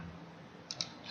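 Two quick, soft mouse clicks close together while activating a WordPress theme on a computer, set against quiet room tone with no talking.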